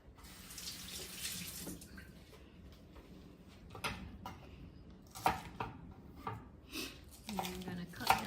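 Tap water runs into a kitchen sink while thyme and hot pepper are rinsed for Jamaican oxtail, a steady hiss broken by splashes and light clatter of handling.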